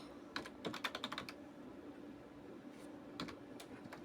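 Java code is typed on a computer keyboard in quick bursts of close, crisp key clicks, separated by a quiet pause, faint and alone.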